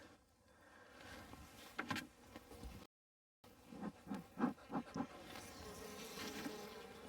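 Honey bees from a weak colony buzz close by around the hive in a busy hum, with individual bees droning loudly past in quick bursts after a brief gap.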